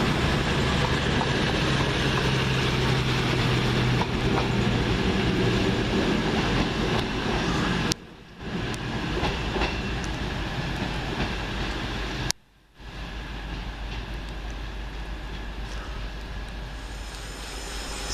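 Class 221 CrossCountry train departing Wolverhampton station on a Manchester Piccadilly to Exeter service, a loud sustained rumble and roar of engines and wheels with two brief drops in level, no voices.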